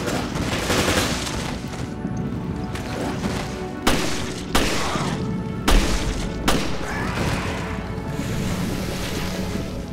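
Gunfire in Resident Evil Revelations, a few loud separate shots punching through a steady roar of waves, wind and ocean ambience.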